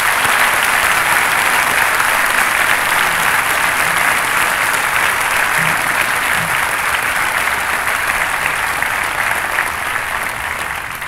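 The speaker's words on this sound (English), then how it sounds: "Let's give them a round of applause." Sustained audience applause at a commencement ceremony for retiring faculty and staff, dense and steady throughout, easing off slightly near the end.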